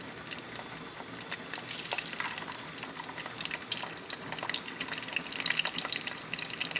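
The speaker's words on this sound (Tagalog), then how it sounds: "Malamig na po yung ating manok. Ipiprito na ulit natin ulit." Chicken wings being fried a second time in hot oil, giving a faint, steady sizzle and crackle that runs on without pause and without voices.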